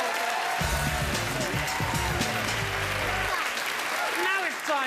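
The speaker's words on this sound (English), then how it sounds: "give him a round of applause" Studio audience applause on a British comedy show, a steady wash of clapping with whoops and a brief burst of music running under it partway through.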